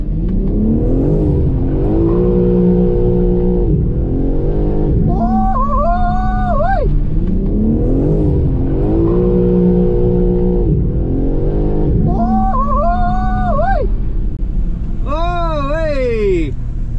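A BMW M3 Touring in drift mode sounds with a loud, continuous engine drone that rises and falls in repeated revving sweeps, with tire squeal crying out in bursts near the end.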